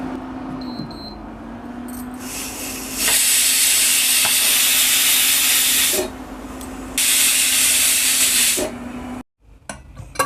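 A kitchen pressure cooker holding a raw cashew and drumstick curry vents steam in a loud, steady hiss, broken by a short pause, with a faint whistle tone running underneath before the sound cuts off.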